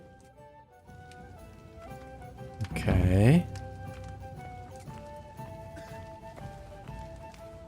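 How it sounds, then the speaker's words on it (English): Horse hooves galloping in the video game Kingdom Come Deliverance II, heard as a brief loud burst of hoofbeats and a horse sound amid game music, with a player speaking briefly. "Saddle your horse and get ready."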